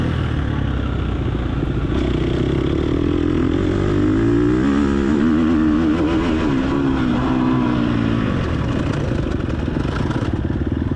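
Race car engine at full throttle in the TORCS racing game, a loud continuous high roar with pitch sweeping up and down through gear changes, other cars faintly audible beneath, no talking.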